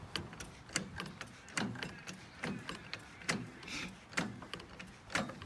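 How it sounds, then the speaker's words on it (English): Jack raising a 1973 Leyland Moke from the subframe, a faint series of evenly spaced mechanical clicks and ratcheting ticks from repeated pumping strokes, close by and quiet, with no talking. "So I'm going to jack it up to get at the sump plug"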